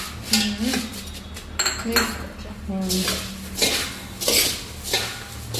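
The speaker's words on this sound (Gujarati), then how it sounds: "હવે મમરામાં હવે બધું મિક્સ કરી દેવાનું" A spoon clinks and scrapes against a metal bowl while spices are mixed into puffed rice for pani puri flavoured sev mamra, with irregular close metallic taps and rattles in quick bursts.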